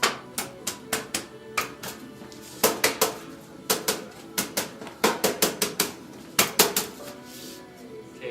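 A metal lid is pressed and tapped down onto a paint can, giving a quick irregular series of bright metallic clicks and clanks, some in tight clusters, close and fairly crisp.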